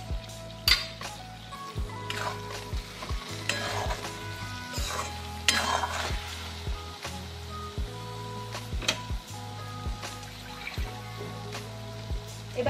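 Egg bharta with Kashmiri chili powder being stirred in a frying pan: repeated close scrapes and clinks of a spatula over a soft, steady sizzle, in a regular stirring rhythm.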